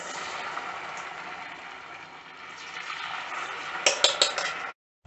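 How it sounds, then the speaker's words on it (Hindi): Small dahi vadas made from bread and poha deep-frying in hot oil give a steady, close sizzling hiss, followed by a few sharp utensil clinks near the end before the sound cuts off. "तेल गर्म हो चुका है, इसमें छोटे छोटे वड़े डालेंगे।"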